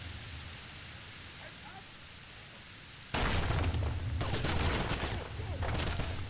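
Wolfenstein (2009) combat bursts out after a quiet stretch: dense, loud rapid gunfire in sustained volleys, with shouted voices mixed through the noise.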